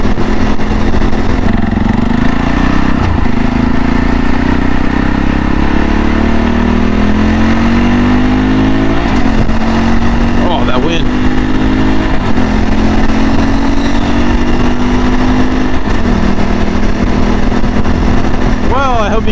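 A CSC RX4 motorcycle with its stock exhaust runs close by, holding a steady idle with a few rising and falling revs, loud and continuous throughout.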